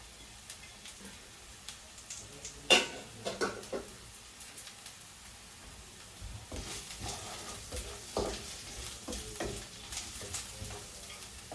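Curry leaves drop into hot oil for a ridge gourd curry, giving a sharp crackle and then a steady, close sizzle with light stirring scrapes and occasional spits, no voices.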